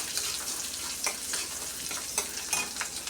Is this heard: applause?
no